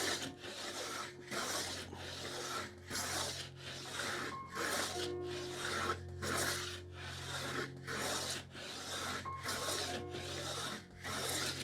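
A hand tool takes fine shavings off rough sawn timber in steady repeated strokes, each a bright rasping swish lasting about a second, close up and without talking.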